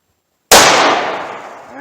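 A single sharp gunshot from a .38 revolver loaded with Remington HTP ammunition, bursting loud out of silence and trailing off into a ringing echo over the next second.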